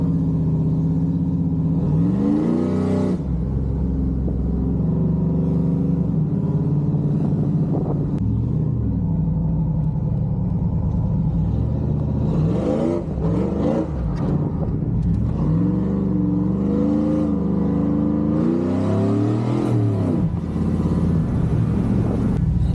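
A cammed Chevrolet Silverado pickup engine, fitted with a new Walbro 450 fuel pump, revs loudly in repeated bursts over a lumpy idle, each throttle blip rising and falling across a continuous close rumble.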